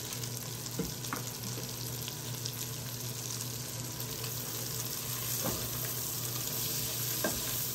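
Onions fry in a pan for a chicken and cabbage dish, a quiet, constant sizzle with a few light clinks of stirring scattered through, and no voice over it.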